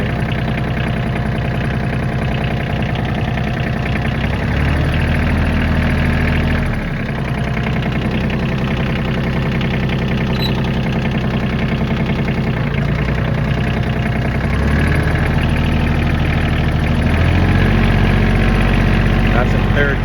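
Kioti CK27 compact tractor engine pulling in gear, a steady mid-pitched diesel drone that shifts in load at intervals, with a voice talking over it throughout.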